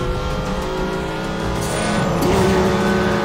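Car sliding with tyres squealing and skidding in the Need for Speed The Run racing game, a sustained loud screech over the engine drone that swells toward the end.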